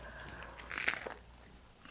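A single loud crunchy bite into a Doritos Locos taco from Taco Bell, a sharp crisp burst near the mic, followed by soft chewing, with no talking.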